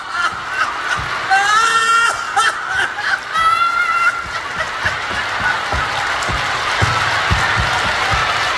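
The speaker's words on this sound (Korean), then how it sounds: "일단 한 10초만 박수 세게 치면서 한번 웃어볼까요?" A crowd claps in a steady patter while people laugh and shriek with delight, the laughter loudest early and the clapping continuing throughout.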